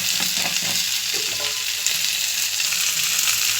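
Okra frying in a hot pan gives a steady, loud, close sizzle with bright crackling spatter, stirred now and then with soft scraping, and no voices.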